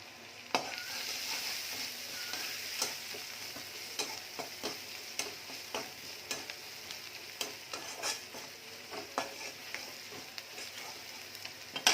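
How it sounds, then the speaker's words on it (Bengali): Onion and chili frying with salt, turmeric and cumin in a pan for a small-fish curry, a steady sizzle with scattered clicks and scrapes of stirring throughout, no voices. "পেঁয়াজ ঝালটা ভেজে গিয়েছে।"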